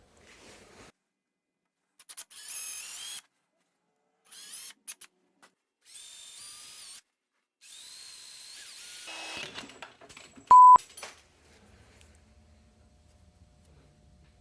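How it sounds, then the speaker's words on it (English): Several bursts of a power drill with a dull bit whining and grinding while drilling out a broken exhaust manifold stud, stopping and starting, close and loud, then a sharp beep and quiet hum at the end. "That's what happens when you use a dull drill bit."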